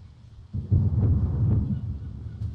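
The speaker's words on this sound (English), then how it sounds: "Thunderstorm." A low, rolling thunderstorm rumble in the game Five Nights at Freddy's 3 swells in after a brief quiet moment and keeps grumbling steadily, loud and close.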